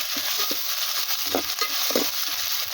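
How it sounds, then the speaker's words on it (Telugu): Two large onions fry in about three spoons of oil, giving a steady, close hiss of sizzling with soft scraping stir strokes over it and no talking. "మూడు స్పూన్లు పోసాను నూనె రెండు ఉల్లిపాయలు పెద్ద ఉల్లిపాయలు వేసాను"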